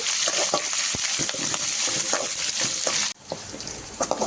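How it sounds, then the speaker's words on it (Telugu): Onions frying in a pan until lightly pink, a steady close sizzle with scattered stirring scrapes, the hiss dropping abruptly near the end before a few softer clicks. "ఉల్లిపాయ ఎక్కువగా ఫ్రై చేసుకోవాలండి, లైట్గా పింక్ కలర్ వచ్చేగా ఫ్రై చేసుకుంటే చాలు"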